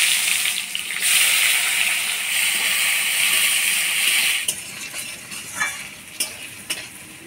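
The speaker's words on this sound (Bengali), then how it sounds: "পেঁয়াজটা লাল করে ভেজে নিলাম" Chopped onion fries in a pan with whole cumin, dried red chili and bay leaf for a fish curry. A loud, dense sizzle runs for several seconds, then eases into quieter crackling with a few sharp stirring knocks.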